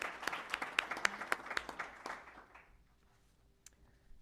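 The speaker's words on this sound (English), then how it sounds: "let's have one more round of applause for all of these amazing accomplishments" Audience at a school board of education meeting claps in a sparse round of applause, individual claps distinct at first, then tapering off and fading to near silence after about two and a half seconds.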